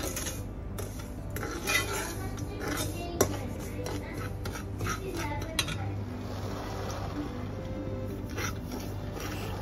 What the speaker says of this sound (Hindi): मेक श्योर कि अच्छे से स्टिर करें, इसको मिक्स करें ताकि कोई लम्स नहीं पड़े।